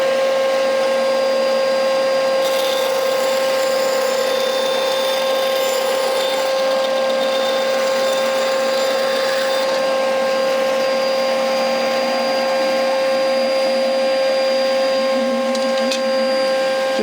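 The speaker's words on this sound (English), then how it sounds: "On with the extractor." A woodworking dust extractor runs at close range with a loud, steady whooshing roar and a constant tonal whine. The sound holds unchanged from start to finish.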